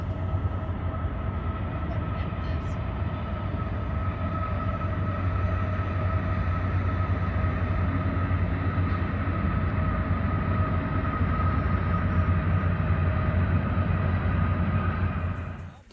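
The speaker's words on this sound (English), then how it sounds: "along with several trains that traveled by" Trains roll past at a steady distance, a continuous low rail rumble with a sustained hum that holds for the whole stretch, then cuts off at the end.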